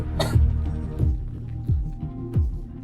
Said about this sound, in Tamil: அந்த பெண்ணுக்கு குளிரால் இருமல் வர ஆரம்பித்தது